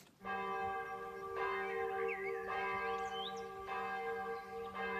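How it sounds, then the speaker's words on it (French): Church bells of the Abbey of La Lucerne in the Norman countryside ring steadily, rich sustained tones with swelling strikes overlapping continuously, loud and close with no voices. "Le son des cloches de l'abbaye de la Lucerne rythme la vie de ce petit coin de campagne normand"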